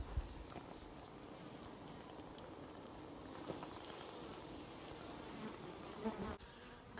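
Bees swarm around old hives built into abandoned buildings, a close, steady buzzing drone that fills the space, with a few faint thumps and footsteps underneath.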